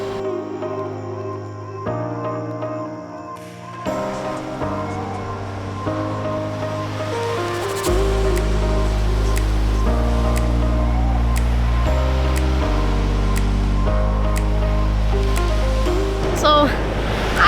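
Ocean surf rolls in at Melasti Beach, Bali, as a continuous wash of waves beneath a steady bed of music that grows louder partway through.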